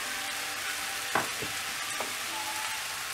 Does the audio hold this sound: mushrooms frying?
yes